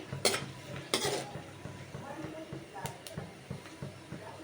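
Peanuts roast in a pan on a gas stove while a spoon stirs them, giving light scraping and clinking scrapes with a few sharper knocks over a faint sizzle, close, with someone speaking over it.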